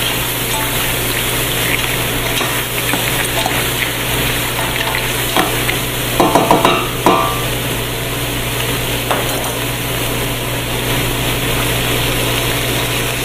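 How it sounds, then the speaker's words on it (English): Monkfish bones sauté in a pan with olive oil and shellfish shells, giving a steady low frying sizzle with a few brief stirring scrapes near the middle, alone and without talk. "To this we add the monkfish bones, continue sauteing."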